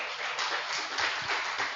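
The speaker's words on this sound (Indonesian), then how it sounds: "Tepuk tangan dulu untuk Bapak Jeffrey Juliarto" Audience applause at a business seminar in Indonesia, a dense, steady wash of clapping from a crowd lasting the whole short stretch.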